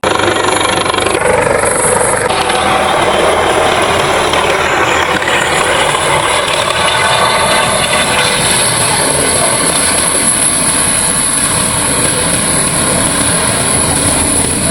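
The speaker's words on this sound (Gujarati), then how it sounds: "ભૂપેન્દ્રભાઈ પટેલ હેલિકોપ્ટરમાં આવે છે" A helicopter carrying Gujarat chief minister Bhupendra Patel arrives at an outdoor mass wedding event, its rotor and engine a loud, continuous whirring roar that holds steady throughout without speech.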